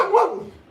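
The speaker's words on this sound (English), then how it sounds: "Good dog." A single close, loud dog bark rings out sharply and then tails off into a fading whine-like decay.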